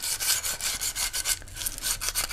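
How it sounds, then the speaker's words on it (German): Sandpaper rubbed lightly by hand across a powder-coated oil pan from a Vespa GTS 300 hpe, a run of steady, close scratchy strokes in quick rhythm with no talking. "dann nehme ich mir auch das Schleifpapier und gehe da nur einmal ganz leicht rüber"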